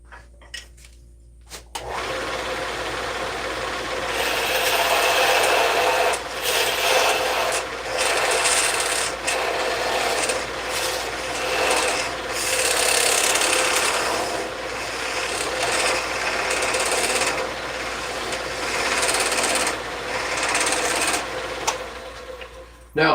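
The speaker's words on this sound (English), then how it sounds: "So I'm gonna have to take this on the drill press." A drill press boring into wood in a woodworking shop, a steady grinding and rasping whir that runs continuously for about twenty seconds after a brief quiet start, with small dips in intensity.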